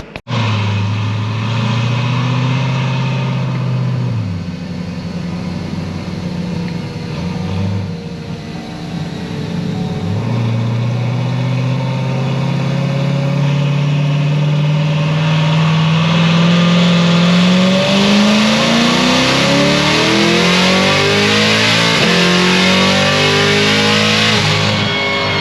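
A Corvette C7 Z06 fitted with a Magnuson 2650 supercharger revs loudly and close, its engine note rising and falling through a couple of blips before a long, sustained climb to a high, straining howl with supercharger whine.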